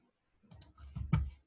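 A few quick, close computer mouse clicks while saving a file on a computer, crisp and isolated in a quiet room.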